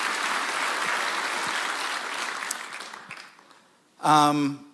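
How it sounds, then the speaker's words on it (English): An audience applauds steadily for a few seconds, the clapping thinning and fading out before a voice begins speaking. "We can do some more applause for sure."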